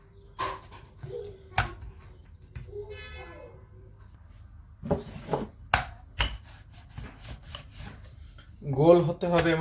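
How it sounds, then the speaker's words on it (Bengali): Moghlai paratha dough is pressed and spread into a round by hand with a touch of oil and no extra flour: soft, intermittent rubs and taps on a board, close by, with a short stretch of talk near the end. "এখন আমরা ডো দুটাকে একটু রুটির শেপ দিয়ে নিব"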